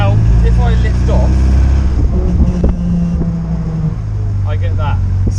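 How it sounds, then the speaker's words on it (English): A K series MG Midget driving on the road with a faulty gearbox input shaft, giving a steady low drone and whine over engine and wind noise while someone talks briefly. "I'm pretty sure it's the input shaft of the gearbox."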